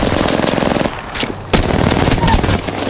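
Constant rapid machine-gun fire from an Apex Legends battle chatters loudly and close, pausing briefly for a moment before resuming in dense bursts with sharp individual shots.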